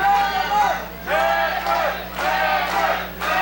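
Wrestling crowd at a CWF Mid-Atlantic match chanting in loud, steady rhythmic waves, roughly one call per second, filling the hall with massed voices.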